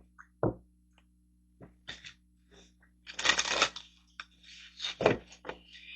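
A deck of tarot cards is shuffled for a reading: a few soft, scattered flicks and snaps, then denser papery bursts, close by in a quiet room.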